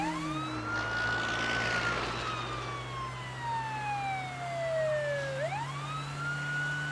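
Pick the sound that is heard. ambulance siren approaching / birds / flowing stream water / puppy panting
ambulance siren approaching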